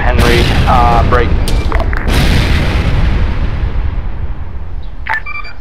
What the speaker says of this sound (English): Be advised, taking incoming mortar fire.